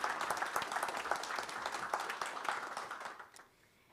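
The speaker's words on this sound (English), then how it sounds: "we will applaud her name," Applause from attendees at a board meeting, a steady patter of many hands clapping at moderate distance, thinning and fading out near the end.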